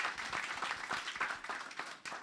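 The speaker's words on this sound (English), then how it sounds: "also is deserving of a round of applause for that excellent presentation" A lecture audience applauding, dense overlapping claps at moderate distance, sustained throughout and fairly quiet.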